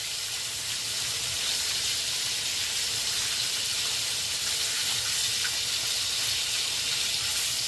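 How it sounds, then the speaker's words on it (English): Slices of bologna fry in a pan for a fried baloney hoagie, giving a steady, close, even sizzle and hiss that carries unbroken from start to finish with no voices. "I'm going to finish frying up this bologna here."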